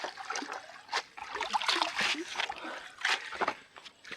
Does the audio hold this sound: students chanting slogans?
no